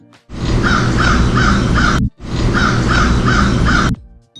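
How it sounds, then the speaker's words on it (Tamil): A crow caws loudly and close in two long bursts of repeated harsh calls, with a short gap between them and no other sound. "காகம் கரையும்."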